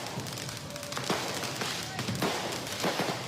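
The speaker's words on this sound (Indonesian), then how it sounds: "Kedua kelompok warga yang bertikai terus saling serang menggunakan kembang api, petasan hingga batu" Fireworks and firecrackers set off during a street brawl on Jalan Bonang, Menteng, Central Jakarta, several sharp bangs and thuds scattered across a noisy crowd background, fairly close and irregular.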